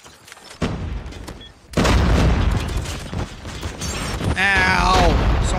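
Loud explosions and bursts of gunfire in a Call of Duty multiplayer match, with heavy booms and rapid shots layered densely together and a player talking over the combat.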